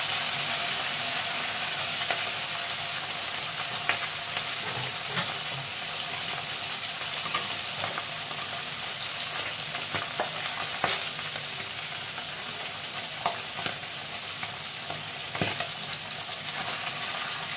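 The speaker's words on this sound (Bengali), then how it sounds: "হালকা করে এপিট এপিট ভেজে নেব।" Hilsa belly pieces fry lightly in a pan with a loud, even sizzling hiss, broken by scattered sharp spatter pops and occasional utensil clicks over a long stretch.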